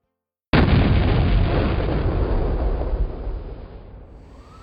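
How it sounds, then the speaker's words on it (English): A single loud, close explosion from the 1995 Oklahoma City bombing at the Alfred Murrah Federal Building downtown, a sudden heavy blast followed by a long, dense rumbling roar that slowly fades over several seconds. "an explosion occurred at the Alfred Murrah Federal Building in downtown Oklahoma City"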